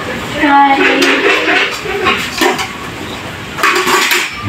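Plates clatter and cutlery clinks in a home kitchen during scrambled-egg preparation. Several bright, close knocks and scrapes come in bursts, mixed with people talking.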